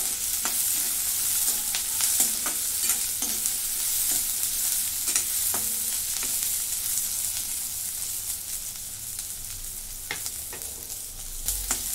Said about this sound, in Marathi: आता ह्याच्यामध्येच लसूण आणि आलं बारीक चिरून घेतलेलं आहे टाकून घेते आणि हे पण परतून घेते